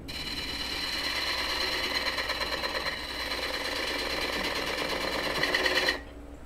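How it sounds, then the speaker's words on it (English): A lathe tool cutting the tenon shoulder of a green wood bowl, a steady, smooth whirring hiss with a rapid mechanical flutter, close and loud, holding for several seconds before abruptly stopping. "The nice smooth cutting sound is telling me that shoulder is now flat."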